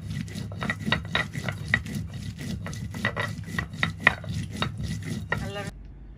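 Fresh goat meat being chopped on a board in a home kitchen, a steady series of close, sharp knife strikes repeating about every half second, then a brief metallic rattle and silence at the end.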